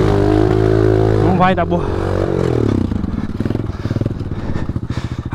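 A motorcycle on a dirt trail drones loudly up close, then its engine rises in a quick revving surge and settles into a rough, pulsing throttle, with someone speaking briefly over it.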